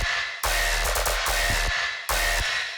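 Tearout dubstep bass drop from original bass samples run through OTT multiband compression: loud, squashed, wall-like distorted bass with bright, crunchy texture, near-continuous with abrupt chopped edges and a short dip before hitting again.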